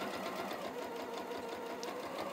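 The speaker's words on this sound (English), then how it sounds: "I'm not sewing over that, I'm sewing over the seam." Elna 720 Pro sewing machine stitching over a fabric seam while making a bag, a fast steady mechanical whir with rapid needle ticks running continuously at moderate volume.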